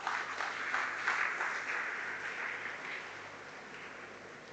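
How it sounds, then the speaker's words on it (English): Applause from the audience at a school alumni day event, a steady broadband patter of many hands clapping continuously and fairly evenly throughout, with no talk over it. "So a big round of applause for Ms. Zohra, please."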